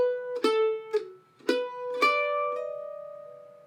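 A mandolin plays measure 2 of a break from a song alone: five bright plucked attacks at an even, moderate pace, the last note ringing out and decaying slowly.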